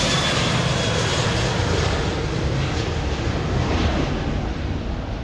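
An airplane near a small airport makes a loud, steady engine roar that fills the whole moment with broad rushing noise, close and constant, with no voices over it.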